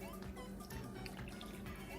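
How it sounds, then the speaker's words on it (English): Juice from canned sweet potatoes being poured into a dish, a faint, steady trickle and drip close by with no talking. "I'm going to pour the rest of the juice that was in both cans"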